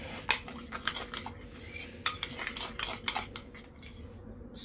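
A chicken drumstick marinade is mixed with oil in a bowl, with a spoon clinking and scraping against the bowl in quick, irregular strokes. The clinks are close, light and fairly quiet.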